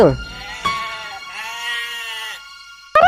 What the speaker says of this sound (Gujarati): ઉપર બકરીઓ રાડો પાડી રહી છે